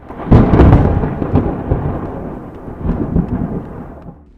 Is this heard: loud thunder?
yes